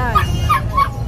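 A Doberman at a dog market gives three short, high yips or whimpering barks spaced evenly over a busy background hum.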